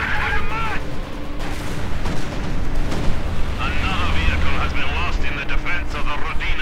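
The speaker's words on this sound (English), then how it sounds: "A strafing run. A Stuka strafing run." Heavy gunfire and explosions roar through a Stuka strafing run in the World War II strategy game Company of Heroes 2, a loud dense barrage with booms while a caster talks over it.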